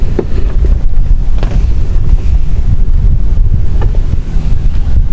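Strong monsoon wind buffets the microphone on a small boat at sea, a constant loud roar with rumbling gusts and waves underneath, no voices.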